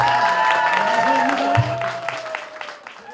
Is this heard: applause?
yes